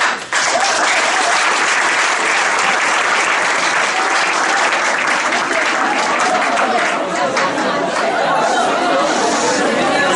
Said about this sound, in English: I would like all of you to give him a good hand clap for.